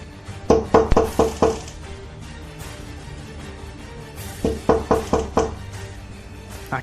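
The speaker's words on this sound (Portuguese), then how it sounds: "logo uma pancada na porta da frente" Two bursts of sharp knocks on a house's front door, each a quick run of about five loud raps, separated by a few seconds of quiet room tone.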